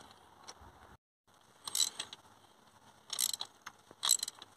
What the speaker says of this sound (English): we'll just give them a little nudge up with the ratchet at the end